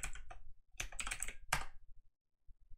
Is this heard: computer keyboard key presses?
yes